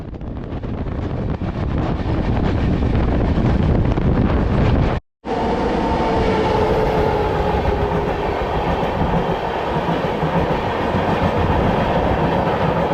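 A train running on rails toward Darjeeling gives a loud, continuous rumble with rhythmic clickety-clack and wind noise, briefly cutting out before the steady rolling resumes.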